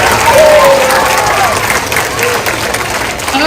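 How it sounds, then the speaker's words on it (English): Loud, sustained applause from a crowd of students at a school assembly, dense clapping with a few cheers and a brief whistle-like voice rising over it. "Give them a round of applause"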